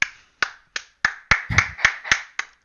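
Finger snapping, ten crisp snaps in an even rhythm, close and clear against silence, with a short murmur from a voice in the middle.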